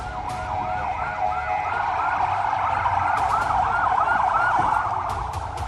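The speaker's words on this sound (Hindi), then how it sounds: "हमले का सायरन बज रहा है।" An air raid siren wails in Khan Younis, Gaza, its rising and falling tone continuous and loud over crowded street noise, with a few sharp knocks in the background and no talk.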